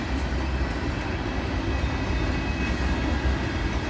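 A long freight train hauling big auto parts boxcars crosses a rock viaduct at a power plant with a continuous, loud rumbling roll and a steady rail clatter throughout.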